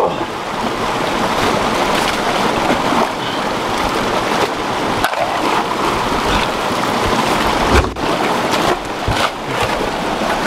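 A mountain stream in a ravine near El Alizal, the source of a community's drinking water, rushing steadily with a dense, loud, continuous wash of flowing water and no voices.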